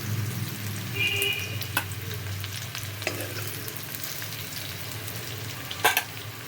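Ingredients for winter khichuri fry in hot oil with a steady, moderately loud sizzle. Sharp stirring clinks break through now and then, with no talking.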